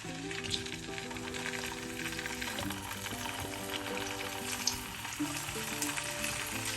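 Spiced buffalo sausages frying in hot oil, a continuous close crackling sizzle with occasional pops, steady in level and with no talking.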